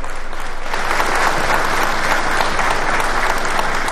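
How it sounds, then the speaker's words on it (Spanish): Audience applause for the newly installed commanding general of the Bolivian Police at a formal ceremony, a dense, steady roar of many clapping hands sustained evenly throughout at close, loud level. "Brindamos este fuerte voto de aplausos"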